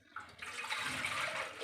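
Water pours steadily into a cooking pot, a continuous splashing rush that starts after a brief pause and stays fairly close and even, with no talking.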